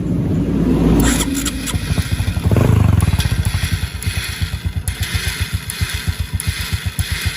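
A motorcycle engine is started through a 4-pin relay wired as a starter relay, giving a loud close burst, then a rapid, slightly uneven chugging pulse that keeps going to the end.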